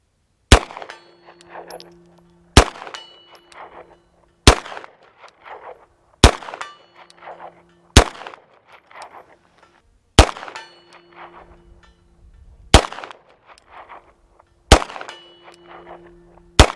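Nine-millimetre rounds from a Beretta M9A3 semi-automatic handgun ring off a steel silhouette target at an outdoor range: eight sharp, ringing clangs about two seconds apart, each with a short ringing tail, and no talk.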